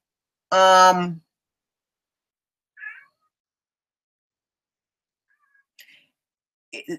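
One clear, loud cat meow near the microphone, followed by a few faint, brief sounds and near silence in a quiet indoor setting during a talk show.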